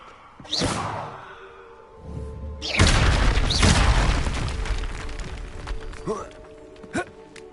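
Fire spell cast in a Harry Potter video game, heard as a rushing whoosh and burst swelling up loud and holding for a few seconds, with shorter whooshes and pops before and after it and a voice calling out spells.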